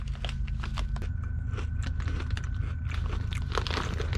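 Crisp, close crunching of Veggie Poppables chips being chewed, a steady series of brittle bites and munches over a low, constant background hum, with no talking.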